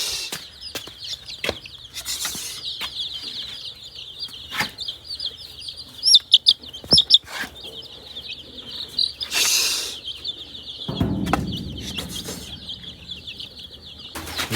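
Chicks clucking and cheeping near a coop as they are herded inside, repeated short calls with occasional wing flaps and bumps, fairly close and moderately loud, with brief talk partway through.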